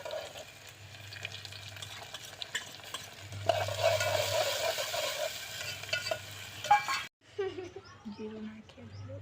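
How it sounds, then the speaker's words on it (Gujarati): Onion, cumin and curry leaves sizzle in hot oil as a tempering for poha, a crackling hiss stirred in a pan with occasional clinks, with a voice speaking nearby. "હવે એનો વઘાર કરી નાખવાનો"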